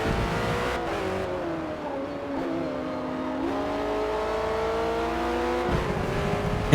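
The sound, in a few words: race car engine revving in Forza Motorsport video game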